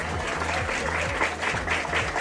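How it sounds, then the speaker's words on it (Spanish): An audience in a televised program's studio applauds for Moisés. The clapping is dense and steady throughout, with a faint murmur of voices underneath. "les pido un fuerte aplauso para Moisés."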